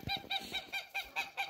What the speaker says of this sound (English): Oh, hello every other goose.